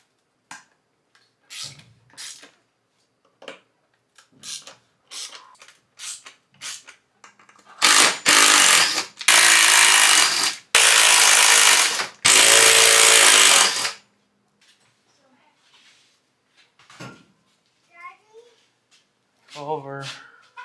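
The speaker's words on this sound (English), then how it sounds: "I'm gonna break them loose with this, and then I'm gonna get my drill out." A cordless power drill runs screws out of a Polaris General bench seat in several loud, close, sustained whirring bursts, with scattered clicks and handling noises before and after.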